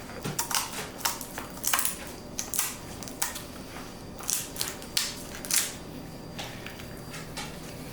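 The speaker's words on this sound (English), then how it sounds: "you'll encounter some bones you'll need to cut through" A chicken backbone is being cut through while preparing a Peruvian-style chicken, giving close, sharp crunching snaps in irregular bursts with brief pauses between cuts.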